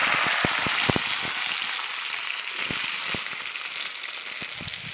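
Potatoes and drumstick pieces sizzle in oil tempered with nigella seeds, a loud, steady bright fizz broken by scattered pops and crackles all the way through.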